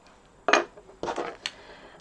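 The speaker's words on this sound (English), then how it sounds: "now I'm going to bring in my craft knife" A craft knife lifted and handled on a card-making table, three short light clinks and taps of metal against the work surface, close and quiet with no talk.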